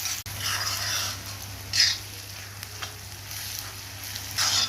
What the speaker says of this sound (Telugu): ఆ అల్లం వెల్లుల్లి పేస్టు ఆ పచ్చిదనం పోయేదాకా దాన్ని వేగనివ్వాలి